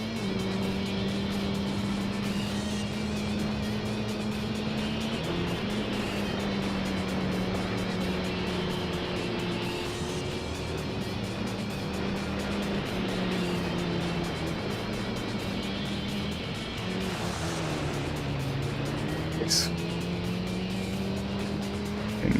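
A race car engine holding a steady, loud drone in the Gran Turismo 3 video game, shifting pitch now and then as the tires drift and squeal faintly through the corners, with no talking.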